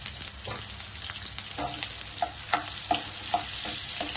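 Green chillies fry in oil in a pan for chicken keema egg ponganalu, a steady close sizzle punctuated by rhythmic stirring clicks and scrapes, with no talking.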